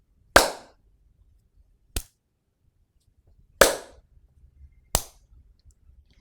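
Four sharp, loud hand claps given as a demonstration, each a single isolated crack separated by pauses of one to two seconds, with no talking in between.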